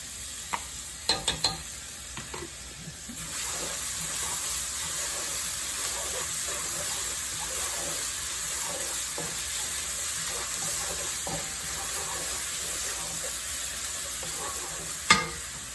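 Lemongrass sautéing in a pan, a steady soft sizzle and hiss with occasional stirring clicks and scrapes, heard alone throughout.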